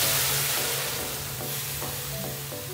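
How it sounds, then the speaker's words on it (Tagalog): A cup of vinegar goes into sizzling pork blood stew, loud continuous frying hiss and bubbling in a pot close by, with no talk over it. "Then we will add the 1 cup vinegar."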